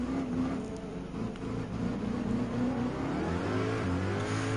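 BMW M3 GT3 and M6 race cars in Gran Turismo 7 accelerating together in a slipstream line at a world finals manufacturers cup event, a steady, dense engine drone that rises and holds throughout, no voices.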